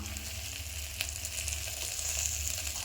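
Okra and onion sautéing in oil with sambar powder, a continuous close frying sizzle with a brief stir around the middle and no talk.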